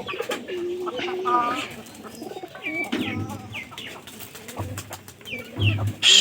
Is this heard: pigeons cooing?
yes